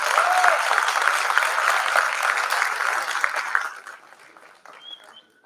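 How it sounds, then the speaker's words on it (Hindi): Audience applause at a Gwalior poetry gathering (kavi sammelan), a loud sustained crowd clapping that fades out over about five seconds. "एक बार सर के सम्मान में भी तालियां बजा दी।"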